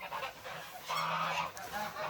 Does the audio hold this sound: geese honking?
yes